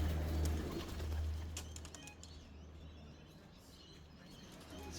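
Racing pigeons return to the loft at the end of a race, with quiet coos, creaks and a flutter of wings against a low, steady hum. The sounds are faint and fade after the opening seconds, with no speech.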